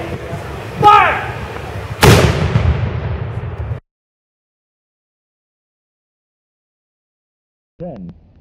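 Ceremonial cannon salute at a Fourth of July event in Litchfield: two heavy booms in quick succession, loud and close, with the second blast rumbling away before silence. A brief voice is heard near the end.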